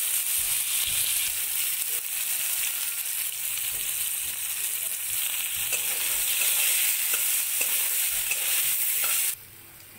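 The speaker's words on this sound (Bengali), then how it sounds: "এবার ভেজে নেব কলা।" Plantain pieces fry in oil in a pan with a lively, continuous sizzle and occasional stirring scrapes close by, running steadily for about nine seconds before stopping suddenly.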